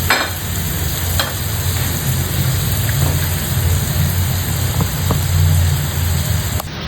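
Rib eye steaks sear in a hot pan at home, a loud, constant close-up sizzle and crackle with a few faint clicks, and nobody talks.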